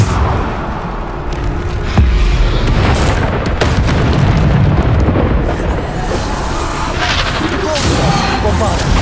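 In Hogwarts Legacy, a Bombarda spell erupts in a series of deep, loud booms and blasts that roll continuously across the clip, with game voices talking over the rumble.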